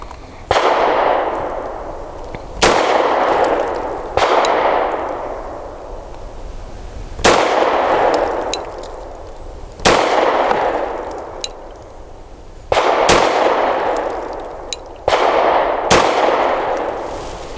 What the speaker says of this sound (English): Shots from 7 yards will also be with the Master Gunworks LLC Gold Standard Ultra Premium Ammunition, 115 grain.